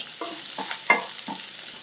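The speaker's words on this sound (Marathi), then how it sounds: "आता भाज्या तुपावर चांगल्या परतून घेतल्या 2 मिनिट" Finely chopped vegetables, including red pumpkin and potato with a little salt, sautéing in ghee: a soft continuous sizzle broken by a few stirring scrapes of a spoon against the pan, close and clear, with no voices.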